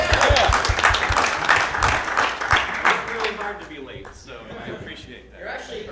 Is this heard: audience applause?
yes